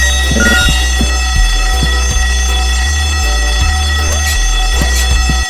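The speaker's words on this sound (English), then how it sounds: "The ear-splitting sound was the fire alarm." Fire alarm in the robot platforming video game Horace, a loud, continuous ear-splitting electronic ringing over low pulsing game sounds, with no talk.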